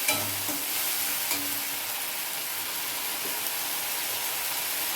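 Ginger paste frying in hot oil with spices, a steady loud sizzle with occasional stirring scrapes, close and continuous without talk.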